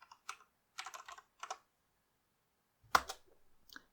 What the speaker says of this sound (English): when I type in Python 3 as I did before